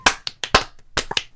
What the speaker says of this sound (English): Clap if Zach is a dirtbag.